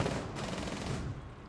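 Rapid gunfire in the tactical shooter Rainbow Six Siege, a dense unbroken burst that fills the short moment at steady, moderate loudness with no voices.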